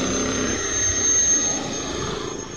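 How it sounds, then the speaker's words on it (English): A Yamaha YTX 125 motorcycle engine in poor, worn condition roars steadily while riding, giving a loud, continuous whooshing drone much like a jet plane. "Parang jet plane yung kanyang tunog ng makina."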